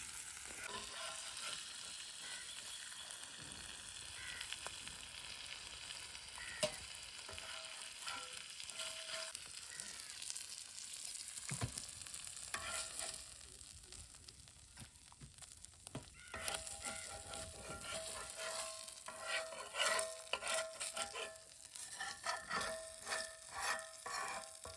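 A big fish fries in oil, village style, giving a continuous dense sizzle and crackle with scraping and rustling as it is handled, loud and steady throughout.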